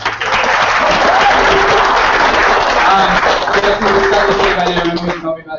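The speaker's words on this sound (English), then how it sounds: "one more round of applause for Jess right here" Loud, dense applause from an audience at a poetry event, steady throughout, with faint voices mixed in, fading out abruptly at the end.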